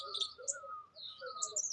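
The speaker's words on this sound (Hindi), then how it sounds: "नोटिस करना इस बात को, कितनी प्रकार की चिड़िया चचा रही है," Several kinds of birds chirp and trill together, high tweets layered over lower calls, soft and steady in the background.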